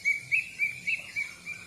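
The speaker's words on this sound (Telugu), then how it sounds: "మస్తు కొట్టుకుంటున్నాయి పక్షులు అయితే." Small birds chirp in the early morning, a series of bright, repeated tweets recurring about every quarter second, clear and fairly close.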